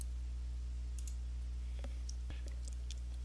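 A single computer mouse click on an email address sounds as a faint, sharp tick over a steady low hum, with a few other tiny clicks around it.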